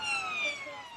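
An emergency siren wails in a steady falling tone for about a second, moderately loud, with a voice speaking over it.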